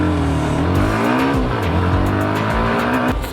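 A 2026 Hero Xtreme 125R, a 125cc motorcycle in power mode on a city road, revs up hard with its engine note repeatedly climbing, then dropping at gear changes, loud and close with no speech.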